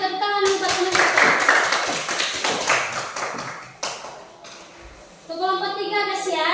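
Primary school children in a classroom clapping for a classmate, a burst of many small hands clapping close by that fades after a few seconds, followed by a voice speaking.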